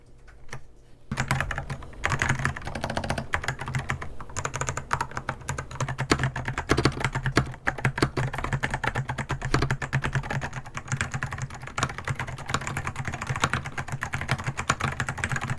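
A mechanical keyboard with blue switches being typed on steadily and quickly, a dense stream of crisp, close clicky keystrokes that starts after a brief quiet moment and runs on without talk.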